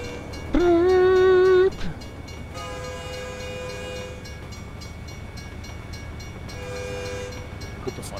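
Truck air horns honking in American Truck Simulator, one loud sustained multi-tone blast near the start, followed by two softer, more distant horn blasts later over the steady rumble of engine and road.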